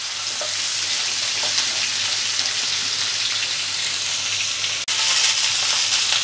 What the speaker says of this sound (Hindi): गैस का फ्लेम हाई कर देते हैं और इसे स्पैचुला से चलाते हुए हम 2 मिनट अच्छे से फ्राई करेंगे।